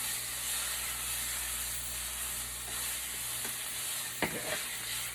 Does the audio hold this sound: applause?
no